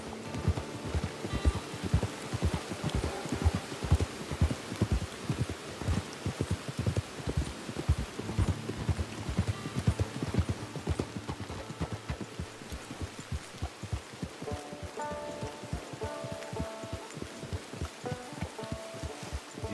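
A horse's hooves clip-clop steadily through rain in the video game Red Dead Online, a continuous rhythmic trot close by with rain patter and rustling around it.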